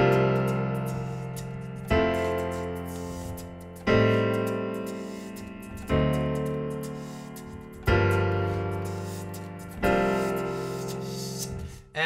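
Piano plays the verse of a song as repeated chords struck about every two seconds, each decaying before the next, rich and close with no voices.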